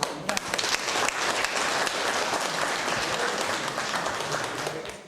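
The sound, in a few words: applause at city council scholarship ceremony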